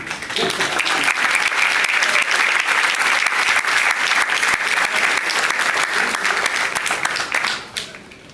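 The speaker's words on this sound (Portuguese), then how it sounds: "esse auditório maravilhoso, a salva de palmas para eles aí" An auditorium audience at a Pentecostal theology lecture in Teresina breaks into loud, sustained applause, steady dense clapping for about eight seconds before fading out at the end.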